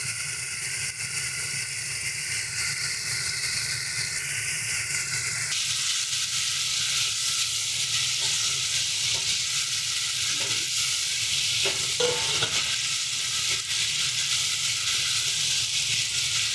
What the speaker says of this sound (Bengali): মাছগুলোকে একটু হালকা হালকা ভেজে নেব।